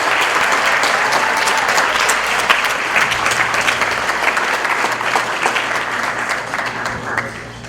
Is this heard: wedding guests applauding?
yes